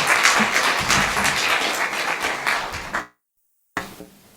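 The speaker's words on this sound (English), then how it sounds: "So give a round of applause for our panelists" A conference audience applauds panelists at a women-in-games event, dense sustained clapping filling the room for about three seconds before cutting off.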